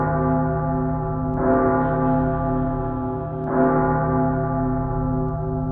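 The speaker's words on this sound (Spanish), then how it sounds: "escuchó el sonar de las campanas." Church bells ring out loud and sustained, with two fresh strikes whose long, humming overtones ring on and overlap, and no voices.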